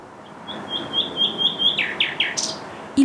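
A nightingale sings in hilly countryside, a run of repeated clear whistled notes followed by quick descending trills and a sharp high flourish, fairly close over a soft ambient background, with no voices.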